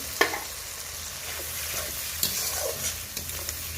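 Ground spice paste with coriander and dried red chilli, loosened with a little water, frying loudly in a pan as a dense steady sizzle with a few sharp utensil knocks while being stirred.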